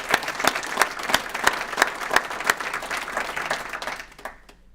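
A civic audience at a State of the Budget 2011 event applauds Ted: dense crowd clapping with a few loud nearby claps on a steady beat, tapering off and dropping away in the final second.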